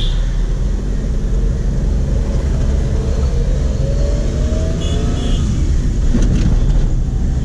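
A 2008 Maruti Alto with over 100,000 km on it drives along, its small engine humming steadily under road and cabin noise, with a gentle rise in pitch as it speeds up.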